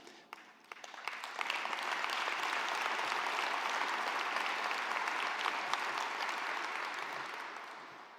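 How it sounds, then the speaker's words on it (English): A room full of people at a city's 2021 State of the City address applauds the mayor's speech, the clapping swelling quickly into a dense, sustained wash before slowly tapering off, heard from some distance. "I want to thank everyone who applauded to that"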